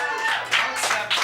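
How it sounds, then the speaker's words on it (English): An audience at a live talk gives brief, moderately loud applause, a short burst of clapping from a room of people that swells and fades within about a second. "I'll accept cheap applause"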